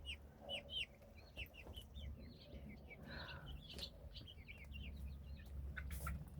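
Chickens cluck and chirp in a coop, a busy scatter of short, fairly quiet calls over a low background hum, with no talking.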